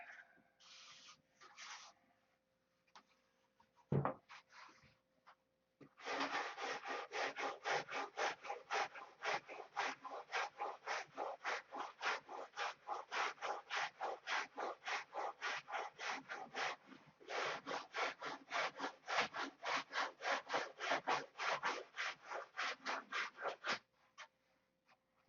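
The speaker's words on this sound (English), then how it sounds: "You listen when you're sanding, you can hear it change sound." Hand sanding on wood for a classic Continental build, a steady rapid back-and-forth scratch of even strokes, close and fairly quiet, with a few scattered rubs and a knock before the continuous sanding begins, no talking.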